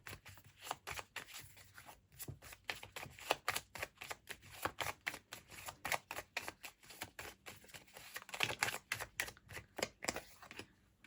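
Tarot cards being shuffled by hand, a long run of rapid, crisp riffling clicks in quick bursts close up, with brief pauses between the shuffles and no talk.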